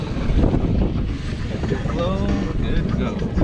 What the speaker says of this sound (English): Wind's picking up a little bit, huh?